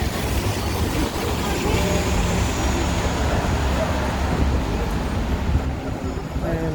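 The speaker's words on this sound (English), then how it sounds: "157, the Streeterville bus." A Chicago city bus, the 157 Streeterville route, moves through wet downtown street traffic on Michigan Avenue in rain, a steady broad roar of engines and tires that stays loud and close throughout without a clear single pass-by peak.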